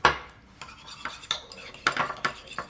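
A metal spoon clinks and scrapes against a bowl while pizza sauce with seasoned salt and basil is stirred, several sharp irregular taps close up with no talking.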